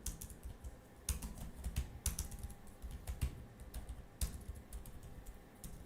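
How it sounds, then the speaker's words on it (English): Fingers tap steadily on a computer keyboard, a quiet, close run of irregular clicks with sharper keystrokes now and then and no speech. "now we just type Jupyter notebook"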